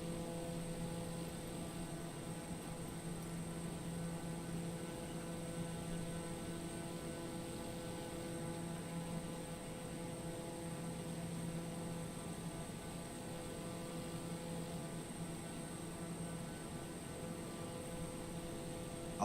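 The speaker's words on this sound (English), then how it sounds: "That DC-6 can put on a turn of speed" A DC-6 propeller airliner gives a steady, even drone with a faint tonal hum, distant and quiet for about twenty seconds, with no voices.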